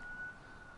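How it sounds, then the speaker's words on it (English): A police siren out on a New York City street, heard faint and distant as a steady high wail with no talking. "Excuse the NYPD sirens in a cut"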